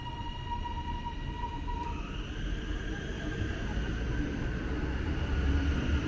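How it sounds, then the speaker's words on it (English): A train pulls away at a suburban railway station, a low steady rumble with faint tonal whines under it, drawn out evenly and moderately distant with no voices. "So a train has just pulled in and one has just left."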